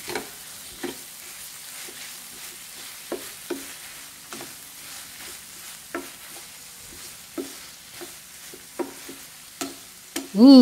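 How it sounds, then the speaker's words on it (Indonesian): Pandan leaves and sliced tomato stirred into spice paste frying in a pan, a soft continuous sizzle broken by regular spoon scrapes and taps, ending in a sharp louder clatter. "Lalu aduk semua bahannya sampai tercampur merata ya"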